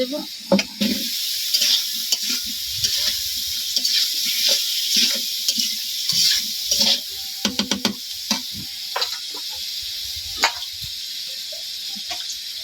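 Tomato and potato sautéing in a pan with chilli powder, soft sizzling under repeated scraping and stirring clatters of a spatula, close and intermittent.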